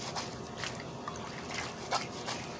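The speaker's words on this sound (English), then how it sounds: "It's like washing clothes, but you just rub in the liquid out of the leaves." Leaves are rubbed and squeezed in water to wash hair, giving soft wet squishing, dripping and splashing sounds in an irregular rhythm, close and fairly quiet.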